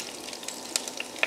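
Sliced garlic cloves sizzle in hot ghee in a kadhai, a soft, even frying hiss with a few brief crackles and pops, close but fairly quiet, with no voices.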